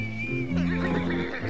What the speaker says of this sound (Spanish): ¡Ese es el caballo del jinete audaz!